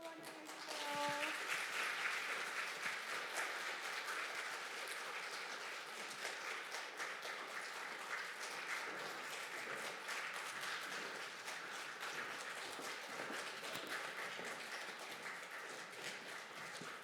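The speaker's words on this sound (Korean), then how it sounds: "박수로 환영해 주세요." Sustained applause from a congregation welcoming people as they enter a women's mission society meeting of a Korean Methodist church district, steady and dense throughout with a murmur of voices underneath.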